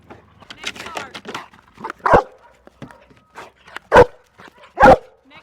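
A search and rescue dog gives a few loud, sharp barks close by, spaced out between shouts from a handler who calls to it throughout.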